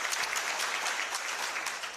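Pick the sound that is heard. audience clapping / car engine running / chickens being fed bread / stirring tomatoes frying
audience clapping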